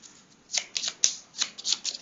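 A deck of game cards is shuffled by hand during a board game setup, giving quiet riffling bursts and soft flicks in an irregular rhythm, with no talk.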